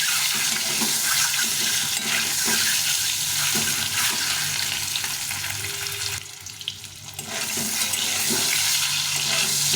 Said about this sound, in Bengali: তেলটা গরম হয়ে গেছে এখন ডিমগুলো ভেজে নেব